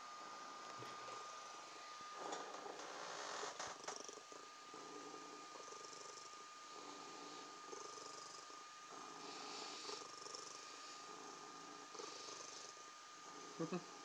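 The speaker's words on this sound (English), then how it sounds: "I'm not even petting her, and this is her purring." Soft, continuous purring runs steadily under a faint background hum, with occasional quiet voices and small rustles nearby.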